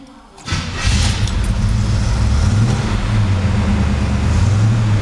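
A stock 1969 Camaro SS/RS muscle car cranks and fires after a brief quiet moment, then settles into a loud, deep, slightly lumpy idle that continues close by.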